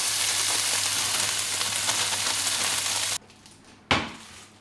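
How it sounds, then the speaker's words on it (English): Baby spinach sizzling as it wilts in a hot pan, a steady bright frying hiss for about three seconds that suddenly drops away, then one short loud sizzle flares up and fades. "I'm gonna pan fry and wilt a bunch of baby spinach."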